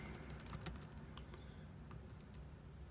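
Quiet typing on a computer keyboard, a steady patter of soft key clicks with one sharper tap early on, close and alone.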